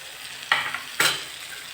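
Onion and tomato sautéing in a pan with turmeric and spices for pithla: two distinct scraping stirs of a spatula over a soft, close sizzle.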